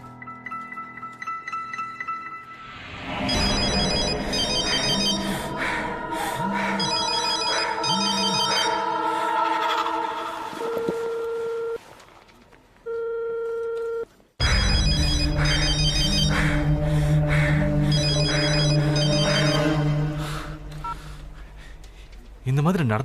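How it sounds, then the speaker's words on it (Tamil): Telephone ringtone rings on and on without being answered, a loud electronic melody that repeats, breaks off briefly, then resumes, with a faint voice early on. "நான் ஃபோன் பண்ணிட்டே இருக்கேன், அவ எடுக்கவே மாட்டேங்கிறா"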